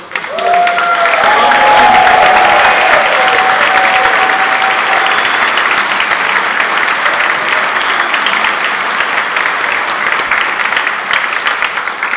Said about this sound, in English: can we please give a round of applause for Kent and Ray?